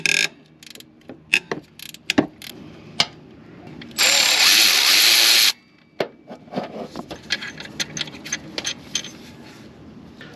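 Socket wrench working a bolt on a car alternator, close ratchet clicks and metallic clunks, then a loud continuous power-tool whir for a couple of seconds, then more scattered clicking.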